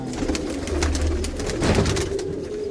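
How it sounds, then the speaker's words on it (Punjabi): A Malwai pigeon coos close by, sustained low droning coos swelling and fading, with a scratchy rustle and faint clicks in the background. "ਮਲਵਈ ਕਬੂਤਰ ਆ ਮਲਵਈ ਕਬੂਤਰ ਹੈ"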